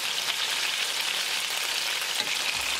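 Pork loin back ribs pan-fry over a high gas flame, giving a loud, steady sizzle and spitting hiss that runs unbroken and close throughout.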